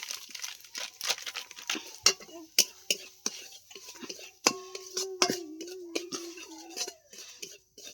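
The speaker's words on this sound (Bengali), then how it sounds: "ভালো করে নেড়ে নেবো সুজিটা" A spoon scrapes and clinks against a pot while semolina is stirred, giving a run of sharp, irregular metallic taps and short rasps, close and fairly quiet, with faint background noises between strokes.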